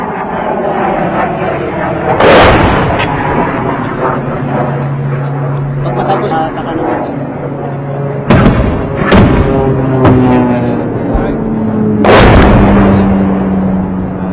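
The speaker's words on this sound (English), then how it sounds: "they're just about to send this mortar into enemy territory" Mortar and artillery fire in the battle against ISIS in Marawi, heard as several heavy booming blasts at irregular intervals over a steady aircraft drone and low background rumble, with voices talking throughout.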